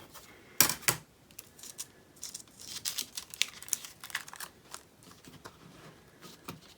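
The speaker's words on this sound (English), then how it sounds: "So I'll just take that to the Big Shot and we'll see what happens." A Big Shot die-cutting machine presses damp cardstock with leaves for embossing, giving scattered crinkling, crunching and clicking sounds up close, with a sharp loud crackle early and irregular rustles after.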